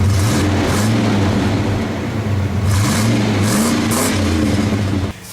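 A Ford Bronco engine revs repeatedly through a new exhaust with a deep, throaty rumble, pitch rising and falling close by, then dropping off at the end.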